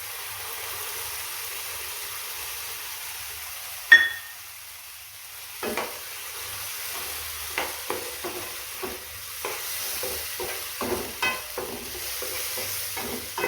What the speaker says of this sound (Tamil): 5 மினிட்ஸ் போல் நல்லா வதக்கிக்குவோம். லைட்டாக ப்ரௌனிஷ் கலர் வர வரைக்கும் நம்ம வதக்கிக்கலாம்.